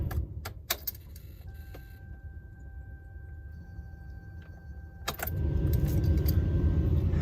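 Keys rattle as an ignition key goes into a van and turns, with a few sharp jingles and clicks, a quiet stretch with a faint electronic tone, then a blower fan starts up and runs steadily.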